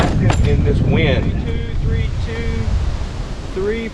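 Wind blows steadily across a lake during spring bass fishing, a continuous rushing roar that stays loud throughout while someone talks over it.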